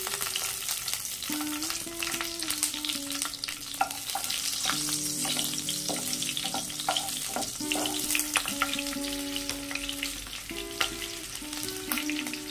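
Black cumin and green chilies fry in hot mustard oil, a steady close crackling sizzle that carries on throughout beneath soft background music, with no one talking.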